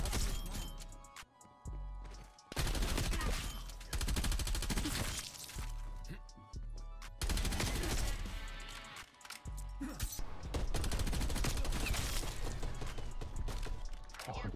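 LC10 submachine gun fire in Call of Duty: Cold War, loud dense bursts of rapid automatic shots repeating across the clip with brief gaps, layered over game music and effects.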